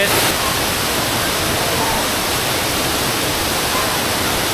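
A waterfall at a rocky hiking spot with layered falls, a loud, constant rushing roar of heavy water up close that fills the whole scene, with voices nearly drowned out.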